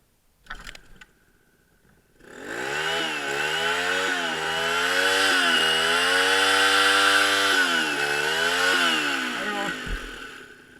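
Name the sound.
engine running at full rev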